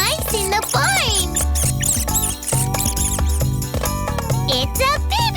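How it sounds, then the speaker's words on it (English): Mice squeak in a barn scene of a children's farm animal cartoon, short high chirps sprinkled over loud, bouncy music with tinkling bells. "And it's chasing the mice in the barn!"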